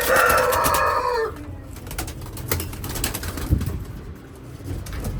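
High flyer pigeons in a Nepali loft give low cooing calls alongside other fowl-like sounds, with a louder, busier stretch at the start before settling into quieter ambience.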